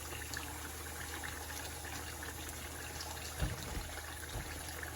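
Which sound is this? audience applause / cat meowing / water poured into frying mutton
water poured into frying mutton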